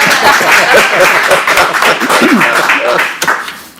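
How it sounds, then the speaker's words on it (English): Audience at a city commission meeting breaks into clapping after a unanimous vote, a loud burst of applause mixed with voices that tapers off toward the end. "Now you can clap."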